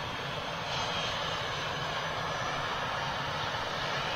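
An Etihad Airbus A380 passes with its jet engines roaring, a broad, continuous rushing noise that sounds fairly distant and holds steady throughout.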